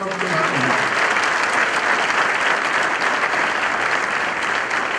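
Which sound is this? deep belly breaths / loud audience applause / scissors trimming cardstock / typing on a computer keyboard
loud audience applause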